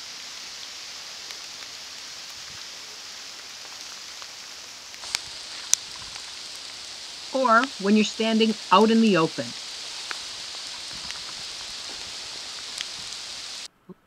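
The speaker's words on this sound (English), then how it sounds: "Take a minute and listen to the rain when you're standing under trees." Rain falls on trees and leaves, making a soft, steady hiss throughout, with a few scattered louder drips and a person speaking briefly over it.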